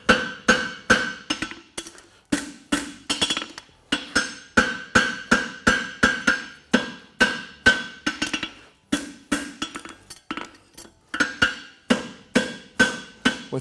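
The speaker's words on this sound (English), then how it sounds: "now I'm going to start forging it from one corner to the center" Hammer forging a hot Swiss hind horseshoe on an anvil, dozens of sharp ringing metallic blows in quick steady bursts with brief pauses, close and loud.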